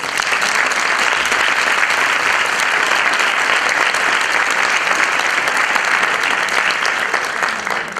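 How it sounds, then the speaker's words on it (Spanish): An audience at a jota Christmas carol concert in Caparroso applauds strongly and continuously, a thick, even wash of clapping that holds steady for the whole stretch. "El aplauso para ellos."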